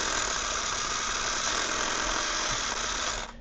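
A small RC car's electric motor is throttled up and whines steadily and loudly at close range for a few seconds, winding down right at the end.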